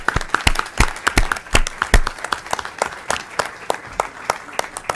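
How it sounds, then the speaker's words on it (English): A small audience at a state senate finance committee hearing gives a round of applause, sparse distinct hand claps at an uneven rhythm, close and fairly loud, gradually thinning out. "Can we just give them a warm round of applause?"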